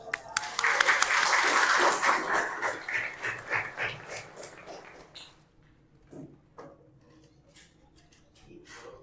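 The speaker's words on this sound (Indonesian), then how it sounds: "Aplaus, berikan aplaus." Classroom audience claps loudly after a student presentation, a dense burst of applause that thins into scattered individual claps and fades out, with a few faint voices.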